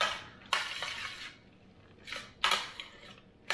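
Warm potato salad with bacon, corn and roasted garlic being stirred through sauce in a bowl, giving a few close, wet scraping strokes separated by short pauses, with no talking.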